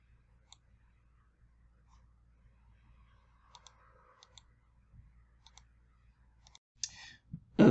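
A computer mouse clicks sparsely in a quiet room as single sharp clicks and a few quick doubles, followed at the end by a brief louder rustle or bump.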